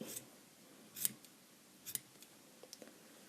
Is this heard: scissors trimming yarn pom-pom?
yes